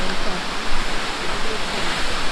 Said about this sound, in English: 200-foot waterfall